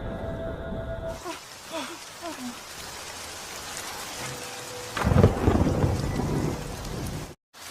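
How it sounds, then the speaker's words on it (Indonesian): A thunderstorm in a dramatic series scene, with deep rumbling thunder and steady rain on surfaces, swelling louder in a heavy burst near the end before cutting off abruptly. "Terlihat petir menyambar dan langit mulai mendung."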